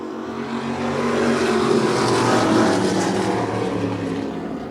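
A 1972 Ford Pinto race car and other cars at Wiscasset Speedway, engines roaring steadily as the field runs past, a loud continuous drone that swells slightly midway and then eases.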